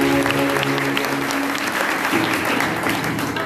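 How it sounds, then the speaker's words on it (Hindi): A church congregation at a healing prayer gathering claps loudly and continuously, a dense wash of applause with a voice faintly audible at the start. "हम सबके लिए जोरदार तालियां।"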